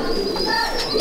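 A Shaki-bloodline pigeon in a home loft in Sangrampur gives a short, close, soft throaty coo lasting about a second, with no speech.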